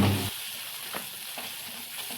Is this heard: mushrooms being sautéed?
yes